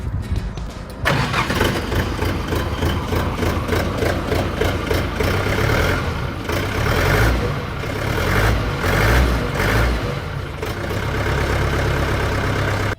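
A small diesel mini tractor engine starts up and chugs loudly nearby, its rhythmic knocking idle rising and settling but running steadily throughout.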